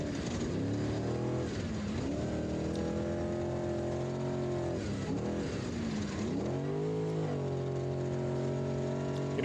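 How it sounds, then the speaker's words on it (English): An off-road spec race truck engine in the Vegas to Reno desert race drones steadily from onboard, its pitch dipping and climbing again through several gear shifts, loud and continuous with no talk. "You hear the difference in shifting in a spec truck versus the unlimited trucks."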